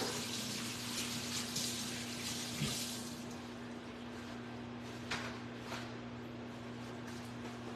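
Water running steadily from a kitchen tap while hands are washed, a soft hissing stream with a few brief splashes, fairly quiet and continuous.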